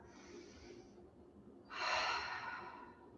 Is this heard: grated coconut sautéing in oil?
no